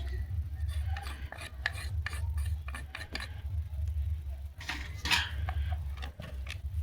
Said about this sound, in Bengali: ভালো করে মেখে নিই